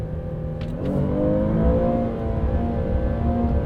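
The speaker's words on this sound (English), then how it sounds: "is it revving so high? Because I have it held into first gear." A 2023 Chevrolet Traverse engine revs high held in first gear toward its 7,000 RPM redline, a loud steady whine that climbs slightly and sustains, heard from inside the vehicle with no talk.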